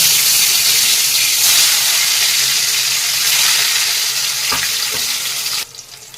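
Fish pieces fry in hot oil with a dense, loud hiss that holds steady for several seconds, broken by a couple of soft knocks before the sizzle drops away abruptly near the end.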